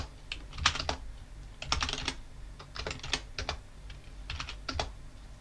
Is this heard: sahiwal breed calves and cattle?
no